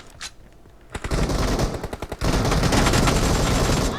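Rapid automatic-rifle gunfire, an AK, in a shooting video game: a short burst, then sustained close volleys of dense rattling shots.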